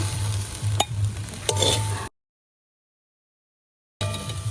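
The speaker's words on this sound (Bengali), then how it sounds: "আলুটা একটু লাল করে ভাজতে হবে" Potato pieces fry in a pan with bay leaf for a sweet potato pudding, a close, steady sizzle with a couple of sharp spoon knocks, cut off by a stretch of silence before the frying resumes.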